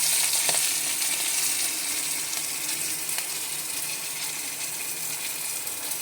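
Green chilies and nigella seeds frying in hot oil with a pinch of turmeric for a Bengali mustard hilsa curry, a steady bright sizzle close up, fading slightly over the seconds with faint stirring taps.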